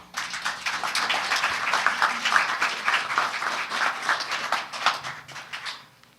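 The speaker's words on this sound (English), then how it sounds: "It's really nice to get a round of applause for walking to a podium" A meeting audience gives a short round of applause as a speaker walks to the podium at an annual members meeting. The clapping is moderately close, rising quickly, holding for about five seconds, then tapering off.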